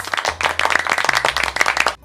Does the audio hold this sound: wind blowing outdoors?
no